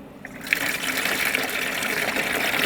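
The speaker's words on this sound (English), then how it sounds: "We're going to drain all the sanitizer." Sanitizer liquid draining out of an SL 500 gravity-model soft-serve machine, a steady close gushing and splashing flow that rises slightly and holds without pause.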